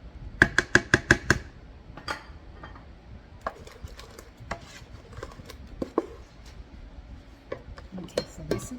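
Cheesecake batter mixed by hand in a bowl: a quick burst of sharp utensil clinks against the bowl at the start, then scattered softer knocks, scrapes and stirring sounds, close and moderately loud, with no talking.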